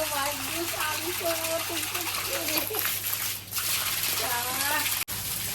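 Pump water gushes from a pipe and splashes steadily as a young girl bathes at home, with children's voices chattering and shouting over the constant watery rush.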